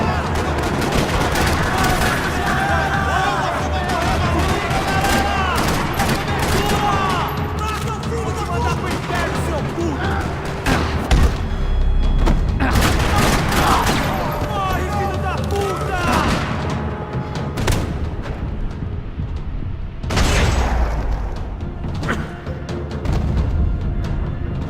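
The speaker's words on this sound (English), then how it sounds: "Another parking lot rattling with gunfire." Gunfire rattles through a parking lot, loud repeated shots and bursts scattered over the whole stretch amid busy game-style noise and background voices.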